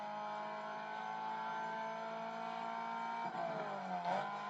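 Race car engine in the video game Need for Speed ProStreet, a steady high revving drone that holds pitch, then dips and climbs again near the end as the driver shifts or brakes, alone and fairly quiet.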